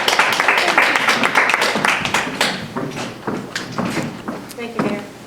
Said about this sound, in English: that round of applause was not for you, Joe